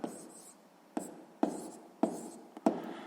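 A pencil writes out a sixth-grade math solution on paper in short strokes and taps, several distinct scratches in a close, quiet room with no talking.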